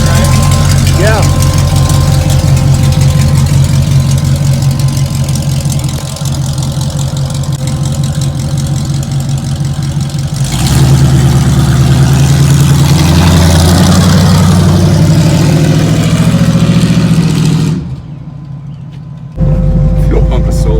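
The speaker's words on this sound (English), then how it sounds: "Fuel pump is so loud." A car engine idles steadily with a loud whining fuel pump droning over it, close and continuous, while people talk throughout; the engine note shifts midway and cuts out briefly near the end.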